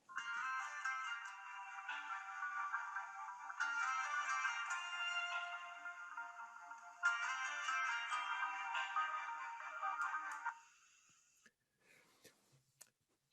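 Mastercard's sonic brand melody plays as a bright, tonal chime-like tune in three repeating phrases, clear and steady, then fades out into near silence with faint clicks.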